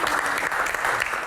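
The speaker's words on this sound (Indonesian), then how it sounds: "Tepuk tangan sekali lagi" Sustained applause from an audience at a Q&A event, a dense, steady patter of clapping filling the room for the whole stretch with no voices over it.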